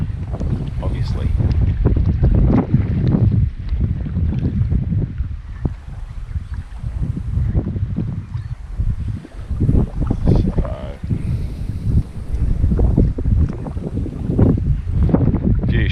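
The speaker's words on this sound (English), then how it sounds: "She's very gusty, very gusty, and very windy, obviously." Strong, gusty wind around 25 knots buffets a small boat at sea, a loud continuous roar of wind on the microphone rising and falling in bursts, with rushing water beneath and no clear speech.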